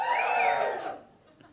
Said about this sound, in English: Give me a cheer if you've ever seen me before